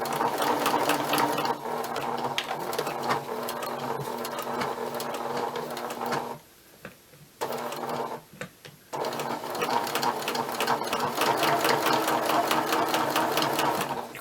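A sewing machine stitches a thick shirt hem with a fast, steady mechanical whir close by, pausing briefly twice midway before resuming its even rapid rhythm.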